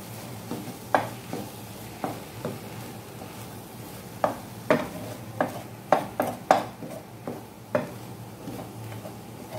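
Broccoli pieces stirred into egg in a pan for an egg thoran, with a spoon or spatula clinking and scraping the pan in a quick irregular series of close taps over a soft, steady sizzle; no talking.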